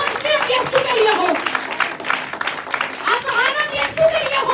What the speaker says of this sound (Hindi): आपकी तालियों की गूंज सिर्फ यीशु के लिए हो